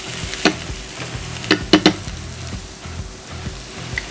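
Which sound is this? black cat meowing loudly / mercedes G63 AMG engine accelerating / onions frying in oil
onions frying in oil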